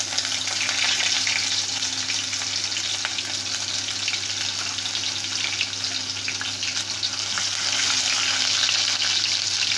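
Grated ginger and green chillies fry in hot oil with a loud, steady sizzle that runs unbroken throughout, with no voices over it.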